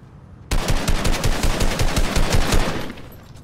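Rapid bursts of automatic gunfire in the Fortnite video game, a loud close volley of about a dozen evenly spaced shots lasting over two seconds before cutting off, with no talking.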